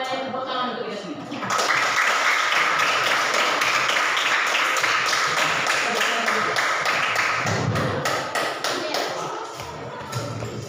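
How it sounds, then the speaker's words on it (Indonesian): A classroom of students clapping for a teaching-practice lesson at Universitas Muhammadiyah Sumatera Utara, a burst of scattered hand claps and taps that swells after a brief pause, with voices heard before and under it. "tepuk tangan untuk kita semua"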